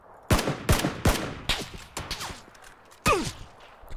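Suppressed gunfire in PUBG: Battlegrounds, a series of sharp muffled cracks in uneven bursts, five or six spaced shots over a few seconds with a louder pair near the end.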